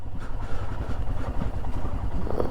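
A motorcycle engine runs steadily at close range while the bike is being parked, a low, even rumble with light clatter and no pauses, outside the entrance to the old Bhaktapur Durbar Square area near Kathmandu.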